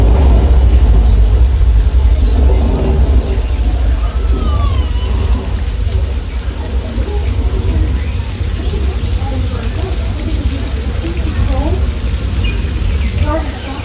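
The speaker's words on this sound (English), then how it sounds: "we have some rain being created by a very high-tech Hollywood device" Artificial rain produced by a Hollywood special-effects rig on the Universal Studios studio tour, a continuous dense hiss of falling water heard from a tram over a steady low engine rumble, with faint voices in the background.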